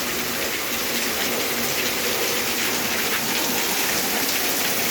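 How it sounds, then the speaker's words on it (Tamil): Heavy rain pounding on a taxi car and the road in Hosur, a dense, loud, unbroken hiss of drops drumming on the surface with no voices. "இப்போ பாருங்கள், கிளியராக தெரியும் உங்களுக்கு எவ்வளோ மழை வருதுன்ட்டு"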